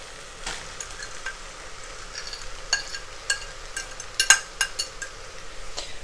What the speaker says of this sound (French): je vais venir ajouter les œufs